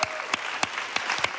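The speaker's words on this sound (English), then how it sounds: "And a round of applause for that." Audience applause after a talk, a short burst of scattered, fairly close hand claps with several sharp individual claps standing out over a steady clapping wash.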